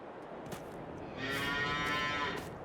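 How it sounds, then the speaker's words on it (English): Cattle in the video game Farming Simulator 22 give a long, drawn-out moo, loud and close, rising over a steady farmyard ambience with no voices. "We got wrought iron fence here for our fancy cows."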